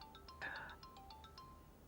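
A phone ringtone plays at low level, a short repeating electronic tone pattern with a brighter burst in the middle, heard faintly in a quiet indoor scene from a Pakistani TV drama.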